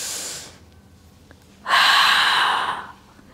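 Breathing during a mat Pilates exercise: a close exhale fading out, a pause, then a long forceful hissing breath through the mouth that tapers off.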